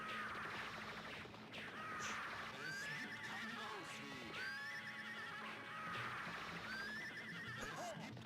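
Repeated horse whinnies from the arcade game Warrior Blade: Rastan Saga III, three rising neighs spaced a few seconds apart over busy game music, with faint hoof clip-clop underneath.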